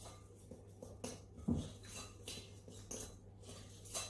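A utensil clinks and scrapes in a bowl while icing sugar and a pinch of salt are mixed into a dry pastry mixture, giving a few soft, scattered taps and knocks close by.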